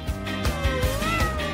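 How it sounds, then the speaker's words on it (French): A cat meows repeatedly in a prankish Halloween setting, several drawn-out tonal calls running back to back, loud and close with no talking over them. "Vous avez un chat!"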